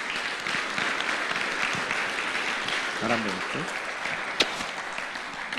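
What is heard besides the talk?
audience applause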